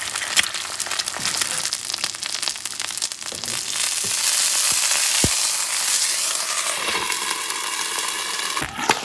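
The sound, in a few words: eggs frying in a pan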